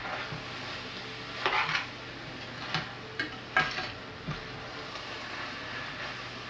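Oxtail and macque choux sizzle steadily in a hot pan, a constant crackling hiss broken by a few sharp clinks of utensils against the pan.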